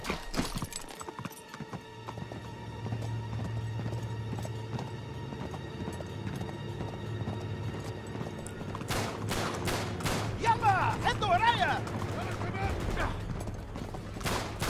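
Hooves clip-clop at a steady gallop under game music and a tense backdrop, with bursts of gunfire crackling in the second half, in the video game Uncharted 3: Drake's Deception Remastered.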